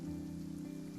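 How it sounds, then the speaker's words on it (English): Steady rain falls in the video game Genshin Impact, a continuous even wash of patter with a low droning bed beneath, moderately quiet and unbroken, with no voices. "It's raining."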